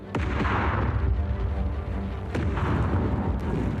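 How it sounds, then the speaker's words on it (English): Heavy gunfire from the German battleship Schleswig-Holstein shelling positions in 1939, a continuous deep rumbling barrage with sharp booms standing out against the roar. "the German battleship Schleswig-Holstein opens fire on Polish positions"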